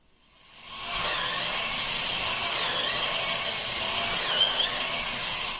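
An Oraimo electric spin scrubber with a dome head scrubs at dried paint, a steady close hissing, grinding whir that builds up quickly and holds loud and even throughout.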